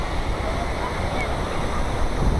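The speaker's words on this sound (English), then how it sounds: "we got a nice 20-mile-an-hour trade wind here" Ocean surf washes steadily on a beach while a brisk trade wind of about 20 miles per hour buffets the microphone in a constant roar.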